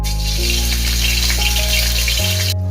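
Ginger garlic paste hitting about 50 ml of hot oil in a kadhai, a loud, close, continuous sizzle and crackle over a low steady hum, with no talking.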